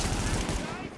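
Rapid gunfire bursts in Tom Clancy's The Division, a dense run of close, loud shots under a faint voice, fading slightly toward the end.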